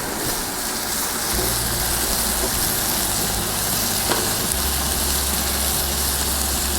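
Smash burgers sizzle loudly and continuously on a Blackstone griddle for a Big Mac copycat, a dense close frying hiss with a low burner hum underneath, no talk.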